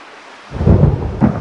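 Video game thunder accompanying a lightning bolt rumbles in low and loud after a brief quiet start, with a second rolling swell near the end and no speech.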